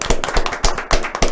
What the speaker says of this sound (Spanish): vamos a dar un aplauso a Junior y a Juan Carlos